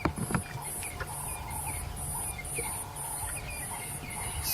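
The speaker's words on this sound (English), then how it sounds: "It's incredibly loud, that sound of the cicada bug." Cicadas in the African bush give loud, rhythmic pulses of high buzzing at an even beat, repeating steadily over a low background hum, with no voices.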